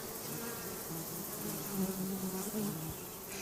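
Close, steady buzzing of honeybees at an apiary, a low droning hum that wavers in pitch, with no talking.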